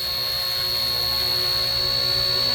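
A model helicopter with optical flow positioning hovers nearby, giving a steady, even whine with a sharp high rotor tone and a constant low hum, unchanging throughout.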